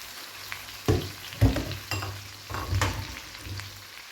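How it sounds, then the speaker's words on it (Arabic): Calamari sautéing in butter in a pan, a steady sizzle broken by several scraping stirs and clattering utensil knocks at uneven intervals, close and fairly loud, with no talking. "دابا ندوز نشحروا الكالامار"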